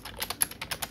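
Quick, close run of computer keyboard typing, about a dozen crisp key taps in an even burst at moderate loudness, with no voices.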